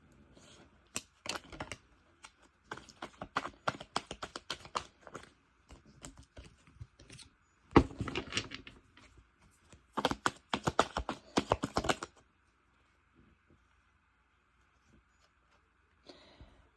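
Tarot cards are shuffled and drawn from a deck, giving close, crisp riffling and flicking bursts in irregular clusters, then a few seconds of near silence before a last soft card snap.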